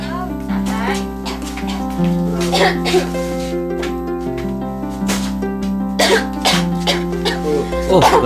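Repeated harsh coughing and throat clearing from a sick person in a tuberculosis drama scene, bursts recurring over steady music, with a speaking voice nearby.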